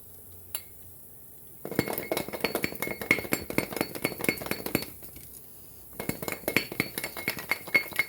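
Rapid, busy rattling and clinking of garlic cloves shaken between two bowls held end to end, in two bursts separated by a short pause.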